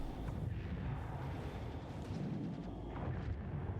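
Spaceship guns firing steadily while strafing in Star Citizen, a dense, continuous low rumble of rapid blasts with no pauses.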